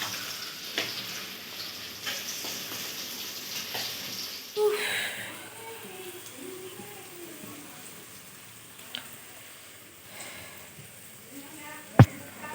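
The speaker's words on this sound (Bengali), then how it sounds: "আমি এখানে মাছ ভাজা বসিয়ে দিয়েছি" Fish frying in a pan gives a continuous crackling sizzle, like light rain, with scattered pops and a sharp clatter near the end; a voice is faintly heard partway through.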